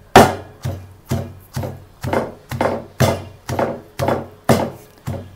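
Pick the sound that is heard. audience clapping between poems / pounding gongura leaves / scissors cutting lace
pounding gongura leaves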